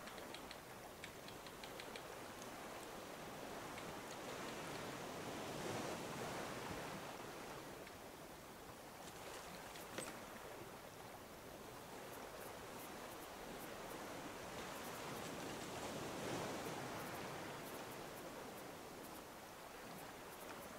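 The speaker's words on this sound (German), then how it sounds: "Hier sind aber richtig die hohen Wellen, ey, ne?" High ocean waves in the Raft survival game roll and surge steadily, a broad hissing wash that swells and recedes in slow cycles, with no talk over it.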